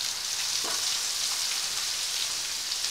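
Crushed shallots sizzle in hot oil for chicken thoran, giving a steady, close hiss of frying that runs unbroken throughout with only faint stirring underneath.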